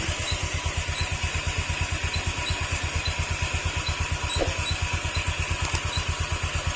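A Honda Click 125 motor scooter engine runs steadily with a rapid, even low throb, and a faint squeak or creak rises briefly over it near the end.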